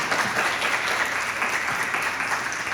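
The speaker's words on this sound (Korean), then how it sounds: "그분들 고생했다고 한번 큰 박수 한번 좀 부탁드려도 될까요?" An audience at a Yonsei University public hearing in Songdo applauds, with sustained, even clapping from a crowd indoors and no speech over it.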